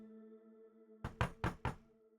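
Four quick, firm knocks on a door, evenly spaced and close, sounding over a quiet sustained musical tone in a tabletop game session.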